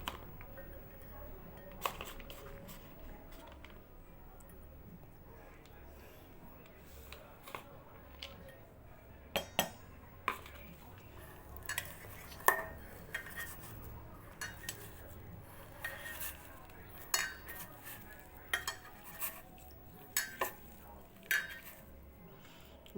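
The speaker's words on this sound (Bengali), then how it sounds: "এখন এটা আলুর সঙ্গে মিশিয়ে দেব।" A spoon clinks and scrapes against a bowl while mashed flattened rice is mixed with potato, giving sharp, irregular metallic taps over a quiet background.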